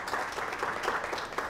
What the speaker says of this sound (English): So I think we should give our friends at CVA a nice round of applause